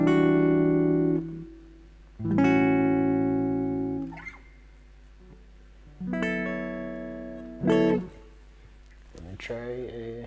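A guitar strums a 2-5-1 jazz chord progression: several full chords, each left to ring and decay, separated by short gaps, close and moderately loud, with a low steady hum underneath.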